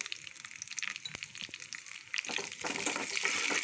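Curry leaves, green chillies and onion pieces with cumin frying in oil: a close, crackling sizzle punctuated by a few sharp pops, growing louder and denser toward the end, with no voices.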